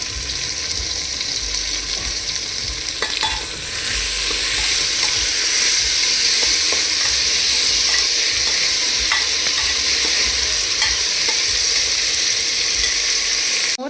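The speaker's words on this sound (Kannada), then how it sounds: "ಟೊಮ್ಯಾಟೋಸ್ ಚೆನ್ನಾಗಿ ಕುಕ್ ಆಗಲಿ." Chopped tomatoes and onions fry in a pan with a constant loud sizzle, while a spoon stirs and scrapes through the mixture at intervals, with no speech.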